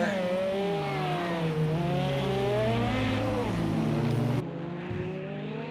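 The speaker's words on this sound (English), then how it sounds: "That car of hers is just hugging the pavement as she goes around these corners at about 130, 140 miles an hour" An LMP1 race car corners at around 130 to 140 miles an hour, its engine note rising and falling in sweeping harmonic pitch bends as it works through a technical section of track, loud and continuous before abruptly cutting out near the end.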